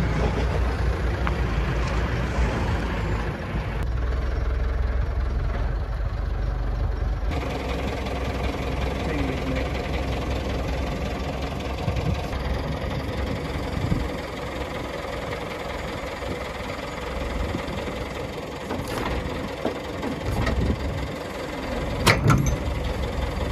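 A military armoured personnel carrier's engine runs steadily at a low rumble through a long stretch, with intermittent clanks and knocks near the end.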